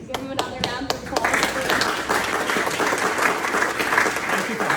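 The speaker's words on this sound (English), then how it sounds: "give him another round of applause" A few sharp, separate claps open, then a full round of applause from a speaker-series audience swells into dense, steady clapping for a speaker named Clam Power, with some crowd noise mixed in.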